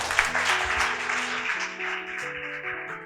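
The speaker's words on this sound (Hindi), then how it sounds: "ताली बजाओ" Church congregation claps together during a sermon, a dense steady patter of hands over sustained keyboard tones, fading slightly toward the end.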